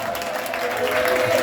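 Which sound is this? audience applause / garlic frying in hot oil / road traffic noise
audience applause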